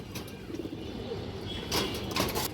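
Pigeons cooing in a pigeon loft, low soft murmuring calls under a faint background hum, joined near the end by a few sharper rustling or flapping bursts.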